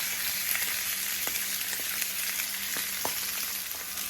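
Salmon frying in a pan, an even, close hiss of sizzling oil with scattered small pops and crackles throughout, no speech.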